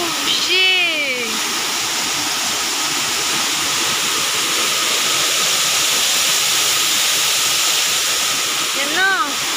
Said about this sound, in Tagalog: Astig Falls